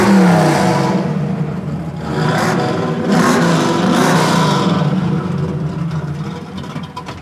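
A built 1976 Chevy Camaro, blacked out with shaved door handles, pulls away on a test drive with its engine revving loudly and steadily, pitch rising and falling through several pulls over about seven seconds.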